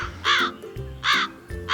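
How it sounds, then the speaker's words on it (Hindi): A crow caws three times in loud, harsh, evenly spaced calls heard close up. "कौवा"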